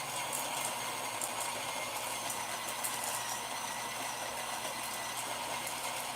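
A coffee grinder set to a slow RPM grinds whole Nicaraguan beans that are slowly fed in for single dosing, giving a steady, even whirring hum that runs without a break.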